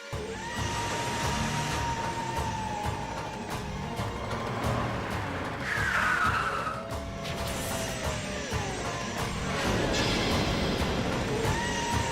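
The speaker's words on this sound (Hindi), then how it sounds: "अब गाड़ी भी स्टार्ट नहीं हो रही।" A car repeatedly fails to start in a Hindi TV serial scene, with engine cranking and motor rumble running throughout and a brief high squeal partway through.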